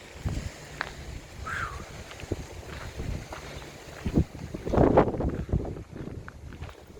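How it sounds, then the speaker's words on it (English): Gusty wind on a blustery outdoor day buffets the microphone with loud, uneven low-frequency rumbles that swell sharply near the end, with no speech heard. "Man, it is a windy Friday."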